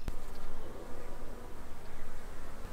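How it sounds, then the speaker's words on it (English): Honeybees swarm around a busy hive on a farm in central Portugal, making a steady, dense buzz that stays close and even throughout, with no voices. "Now you can see there's a lot of activity on one of our hives."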